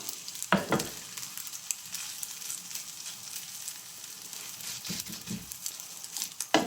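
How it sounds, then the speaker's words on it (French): A homemade crab patty, crumbling apart, fries in a pan with a soft, steady sizzle. A few louder knocks and scrapes of handling break the hiss. "Maintenant, on va faire cuire notre steak de crabe."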